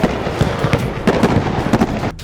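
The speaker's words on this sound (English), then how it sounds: "We got fireworks in the backyard!" Backyard fireworks burst in rapid, loud crackling pops and bangs, a dense irregular barrage close by that cuts off abruptly at the end.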